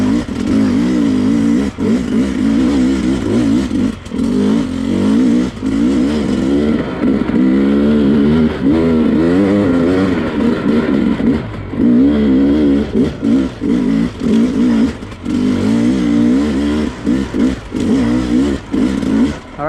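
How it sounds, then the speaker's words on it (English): A Sherco 250SE dirt bike on its first ride, the engine droning loud and close throughout with repeated throttle blips and revving swells, no talk over it. "All right, first ride on the Sherco."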